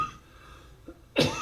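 A single sharp cough comes from a man with rhinitis near the end, close and abrupt. A faint breathy sound precedes it against quiet room tone.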